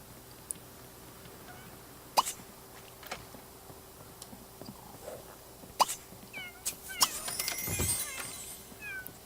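Cats in The Sims 3 meow in short, scattered calls, some rising and chirpy, over a quiet background with light ticking clicks and one denser burst of activity near the end.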